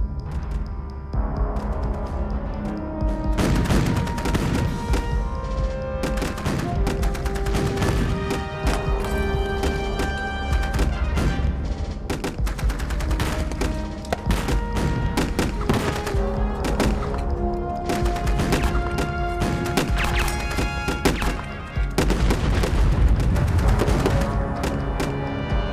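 Battle gunfire in a war film with Japanese aircraft bombing and naval anti-aircraft guns, repeated loud bursts of shots and heavy thuds in irregular clusters over a busy, dense backdrop.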